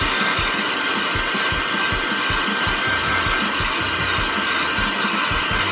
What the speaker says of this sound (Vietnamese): Còn ở đây mình dùng máy sấy tóc mà